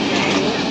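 A train running, heard from inside the carriage as a loud, steady rumble and rattle for under a second, with no clear individual clicks.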